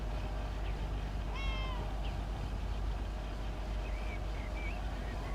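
Mortimer the cat from the video game Lake gives a few short meows over a low, steady ambient hum, with a faint chirping in the background.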